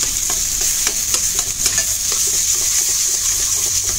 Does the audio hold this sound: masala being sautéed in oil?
yes